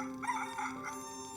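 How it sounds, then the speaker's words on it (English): A rooster crows once, faint and brief, in a single drawn-out call with no voices. "Peter heard the crow of the rooster"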